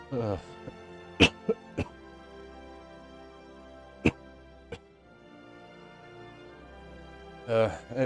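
A person coughing over background music, several sharp coughs in a quick burst near the start, then isolated single coughs spaced apart, and a longer throaty cough fit at the end, close and loud.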